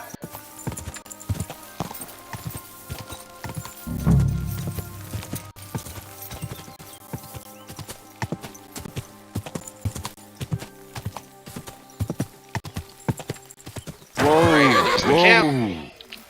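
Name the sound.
horse hooves in the video game Kingdom Come Deliverance II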